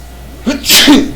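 A single loud, close sneeze: a quick intake of breath followed by a sharp, explosive burst.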